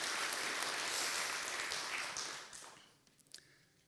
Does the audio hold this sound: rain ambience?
no